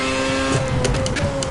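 A Formula A race car engine in Project CARS revs hard in a low gear, loud and close, with a strained, rising engine note and a few sharp bursts as the throttle opens.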